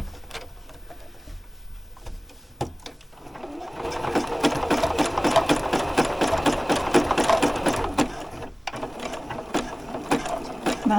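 A sewing machine runs a zigzag stitch back and forth over a frayed fabric edge, its rapid needle chatter steady and close, with a brief stop partway through and the motor picking up again.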